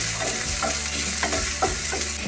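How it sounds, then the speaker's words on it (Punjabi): Onion fries over a high flame, a loud steady sizzle with a low background hum and several rhythmic stirring scrapes close by. "ਪਿਆਜ਼ ਨੂੰ ਹਲਕਾ ਜਿਹਾ ਆਪਾਂ ਭੁੰਨ ਲਾਂਗੇ ਇਹਦੀ ਸਾਰੀ ਕੁਕਿੰਗ ਅਸੀਂ ਤੇਜ਼ ਫਲੇਮ ਤੇ ਕਰਾਂਗੇ"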